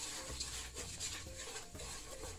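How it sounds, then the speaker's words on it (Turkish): Sugar, cornstarch and egg yolk are stirred together dry in a bowl, giving a soft, continuous scraping and rubbing with faint clinks of utensil against the bowl, quiet and close. "Önce bir şöyle kuru karıştırayım"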